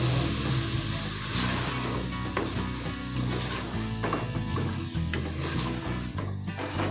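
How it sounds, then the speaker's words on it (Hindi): Minced keema with salt fries in a pan for a poppy-seed (khashkhash) keema, giving a steady close sizzle broken by repeated scraping, clattering stirring strokes, with no talking. "कीमे का कलर जब तक चेंज नहीं होता इसको हम भून लेंगे।"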